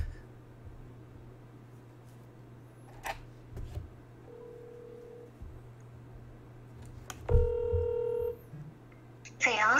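Telephone dialing tones place a call during a Korean civil-service exam prep broadcast: a brief burst of stacked electronic tones sounds near the end, over a low steady hum and sparse background noise.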